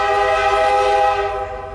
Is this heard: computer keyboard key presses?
no